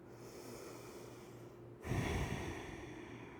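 Breathing during a rest in a yoga practice, with a soft quiet stretch first and then one loud, close, audible breath or sigh that slowly fades, with no talking.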